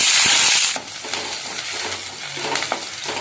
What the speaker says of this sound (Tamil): நல்லா இந்த மாதிரி வெங்காயத்தை வதக்கி விட்டுக்கலாங்க